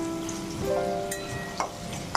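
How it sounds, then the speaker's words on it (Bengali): Potato pieces frying in about two spoonfuls of oil with salt and turmeric, giving a steady soft sizzle and crackle with a couple of brief sharper pops near the end, close and moderately quiet. "আলু ভেজে নিচ্ছি।"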